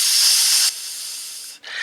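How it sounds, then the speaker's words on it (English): A loud, close sizzling hiss, steady and bright like steam, thins slightly partway through, cuts out for an instant near the end, then flares back up. "and you hear a sizzling"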